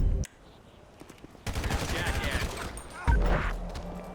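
Gunfire in GTA V, the police-patrol LSPDFR mod, during an alley shootout: bursts of shots break out after a brief hush, then grow louder and denser, mixed with game noise.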